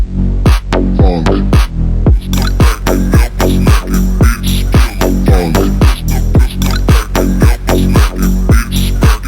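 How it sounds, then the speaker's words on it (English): Loud phonk track with pounding, regularly spaced heavy bass kicks and hard percussive hits driving a steady throbbing rhythm over a dense distorted backing, continuous throughout. "This is a sound of Phonk"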